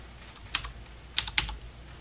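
Computer keyboard keys pressed for 3D modeling shortcuts while UV unwrapping a TARDIS model: a few distinct, close clicks, one near the start and a quick cluster of two or three later, with quiet gaps between.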